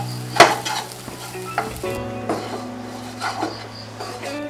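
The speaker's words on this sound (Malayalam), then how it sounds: "എന്നിട്ട് ഇവയെല്ലാം കൂടെ നല്ലപോലെ മിക്സ് ചെയ്യാം." Masala with ground cumin and garam masala stirred in a pan for paneer masala, a sharp scrape of the spoon near the start followed by steady close sizzling and intermittent stirring scrapes.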